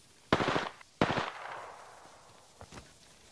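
Two quick bursts of automatic gunfire in the Apex Legends video game, fairly loud, followed by a fading tail and a couple of fainter distant shots.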